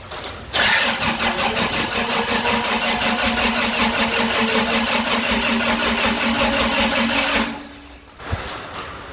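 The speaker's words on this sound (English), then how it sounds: "We're gonna crank it over and try to bleed some fuel out and get some fuel coming out of these lines." Kubota diesel engine from an auction tractor cranking over steadily for about seven seconds to bleed fuel through the lines, a loud continuous rhythmic churn of the starter that stops abruptly without the engine catching.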